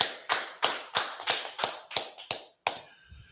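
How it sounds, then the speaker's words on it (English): Sharp, close hand claps from a brotherhood class in Fayetteville, North Carolina, about nine crisp claps in a steady rhythm, then one more after a short gap, with nobody talking. "clap it up"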